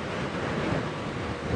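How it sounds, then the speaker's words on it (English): Steady broadband wind buffets the microphone on an open safari vehicle during an early-morning game drive, a continuous roaring rush with no talk over it. "It's got very windy all of a sudden."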